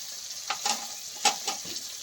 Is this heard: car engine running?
no